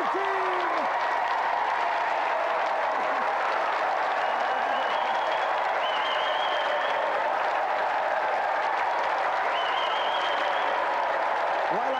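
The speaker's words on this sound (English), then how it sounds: "Let's have another round of applause for Auntie Marisha and our special guest, East 17." Sustained applause from the studio audience of the TV show Gamesmaster, a dense steady wash of clapping that fills the whole stretch without letup.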